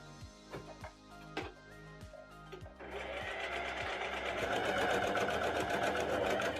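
A sewing machine stitching a waistband opening shut with elastic tucked inside, a few slow clicks and taps at first, then a steady fast mechanical whirring run close by.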